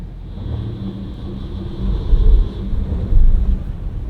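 A medium SUV in off-road mode strains to drive a front wheel off test rollers, a steady low engine rumble with wheel and drivetrain noise that swells twice briefly, heard alone without talk.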